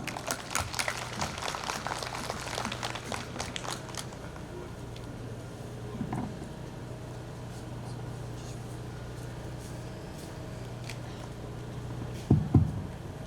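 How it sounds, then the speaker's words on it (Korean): At a contractor's briefing on an apartment remodeling project, an audience claps for a few seconds, a moderate burst of hand claps that tapers off into a quiet room hum, followed by a couple of faint thumps near the end. "큰 박수 부탁드립니다."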